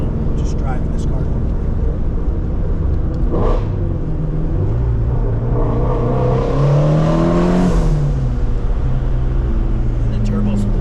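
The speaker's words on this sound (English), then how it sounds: "the turbo spools obviously just is a whole nother level of sound" Twin-turbo 2018 Shelby GT350 engine revving hard, with rising and falling harmonic sweeps of turbo spool building to a peak near the middle, loud and continuous under a steady rumble of road and cabin noise.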